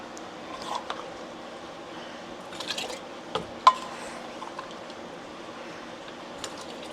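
Chilli oil solids spooned through a funnel into jars with a measuring cup, a few faint scattered clinks and soft wet taps against a quiet background.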